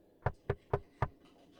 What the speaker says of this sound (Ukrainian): І стукає нам.